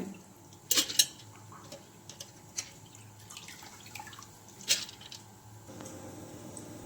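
Soaked moong dal is drained of its water and tipped into a mixer jar, giving a few sharp metallic clinks, soft drips and wet shuffling at low volume, with quiet gaps between the sounds and no speech.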